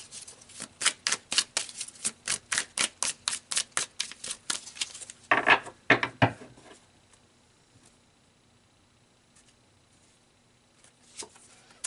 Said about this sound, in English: let's pull some more cards and see what comes out